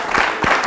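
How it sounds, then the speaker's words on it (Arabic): Audience applause at a television show, a brief burst of clapping from a crowd, loud and close, with a couple of stronger swells within less than a second. "تصفيق"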